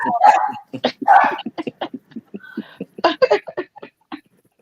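A dog barks in a rapid series of sharp, loud yaps and yips, close by, with a few quieter whimpering sounds and a pause partway through.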